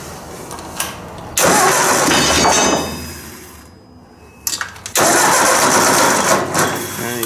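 A Ford 800 tractor engine cranking, then catching and running, loud and close, with a pause where the engine dies down before it cranks and fires again, with a metallic clang at the restart.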